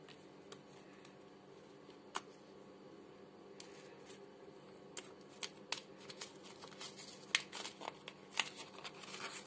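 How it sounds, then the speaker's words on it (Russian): A large paper surprise packet is opened, giving continuous close crinkling and rustling of paper with sharp crackles and snaps that grow denser toward the end, fairly quiet, with no talk. "Открываем самый большой пакетик."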